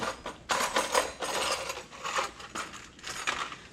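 A 15mm ratchet tightening brake caliper bolts on a Mustang Cobra, with repeated close clicking bursts in uneven strokes and no talking.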